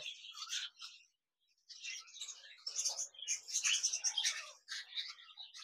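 Caged cockatiels chirp and twitter in rapid, overlapping bursts, close by, with a brief quiet gap before the chattering resumes more densely.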